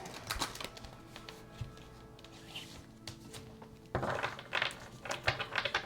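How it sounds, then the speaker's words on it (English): Soft, uneven papery shuffling and light slaps of tarot cards being mixed by hand, with a busier burst of rustling toward the end. "let's go ahead and shuffle the cards."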